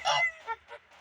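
Several loud honks from geese, one strong call followed by two shorter, fainter ones in quick succession, close by.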